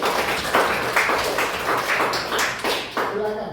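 A classroom group claps together in steady, fairly dense applause lasting a few seconds, fading near the end where a voice begins to speak.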